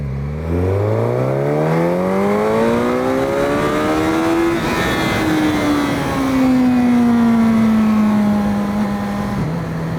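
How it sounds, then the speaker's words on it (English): A Suzuki GSX-S motorcycle accelerating hard, its engine note climbing steeply through the revs, then easing into a long, slowly falling drone, close and loud with no talking. "Now let's say I'm gonna try to like do some acceleration here."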